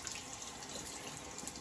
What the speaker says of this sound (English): rinse that blade